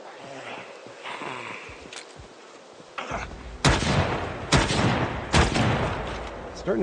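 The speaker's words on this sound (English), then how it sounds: "We can discharge the gun now." Gun firing in the video game Project Zomboid: after a quieter stretch, three loud, sharp shots ring out about a second apart, each with a short tail.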